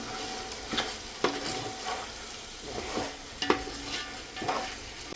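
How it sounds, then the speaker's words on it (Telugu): Chicken pulao being stirred with chilli powder in a pot, a low sizzle with a few distinct spoon scrapes and knocks spaced about a second apart, close and fairly quiet with no speech. "మొత్తం ఒకసారి మిక్స్ అయ్యే విధంగా కలిపేసుకుందాం"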